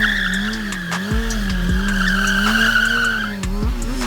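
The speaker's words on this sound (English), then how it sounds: "He spins that tire pretty smooth too." Kawasaki 636 sport motorcycle spinning its rear tire: a loud, close tire squeal over a wavering high engine note, with several sharp thumps, no talk.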